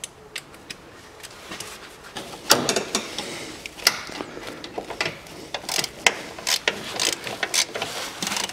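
A ratchet wrench on a flexible extension loosening a bolt during front suspension work on a 2012 SsangYong Actyon 2.0 4WD, giving quiet, close, irregular clicks in short bursts that grow busier as the bolt turns.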